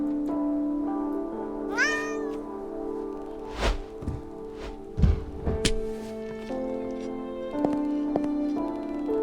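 A cat meows in the horror video game Burnhouse Lane, one rising meow near the start over a steady humming ambient drone, followed by several dull thunks and thuds like footsteps or objects being bumped.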